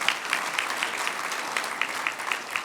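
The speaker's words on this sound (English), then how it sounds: "could we give you a big round of applause and say thank you?" Applause rises from guests at an annual chamber of commerce dinner, many hands clapping steadily, with a few sharper individual claps standing out in a rough rhythm.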